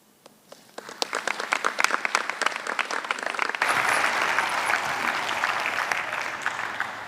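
Sustained audience applause at a university graduation ceremony after an ensemble's rendition of South Africa's national anthem, starting with scattered claps and swelling into dense, loud clapping from a large crowd.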